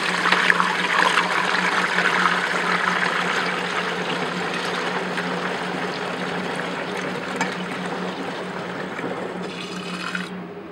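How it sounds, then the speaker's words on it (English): A diluted Champ 2F formulation mixed into water pours steadily through a 40-mesh sieve for several seconds, a continuous splashing trickle with a low hum beneath it. "I'm pouring this through a 40 mesh sieve."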